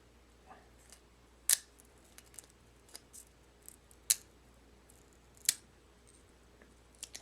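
Scissors trim the edge of a rhinestone tumbler wrap in a quiet room, giving sparse, sharp snips and clicks spaced a second or so apart, some crisp and close, others faint.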